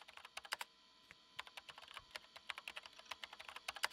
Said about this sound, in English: The only sound present in the room was the distinct clacking of a keyboard